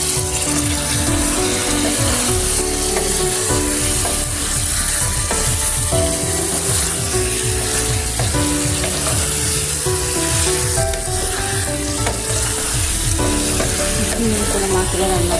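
Meat fries with ground spices in a pan, a loud, constant sizzle with rhythmic scraping and stirring strokes, close up, with no talking.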